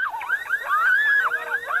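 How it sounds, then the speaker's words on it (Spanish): A car alarm wails close and loud, its siren sweeping up and down in repeated rising and falling whoops with no voices over it. "Entonces salta la alarma y M le arrebata las llaves."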